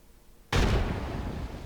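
A frag grenade goes off in a video game, a sudden loud blast after half a second of near silence, followed by a long, dense rumbling decay that fills the rest of the moment.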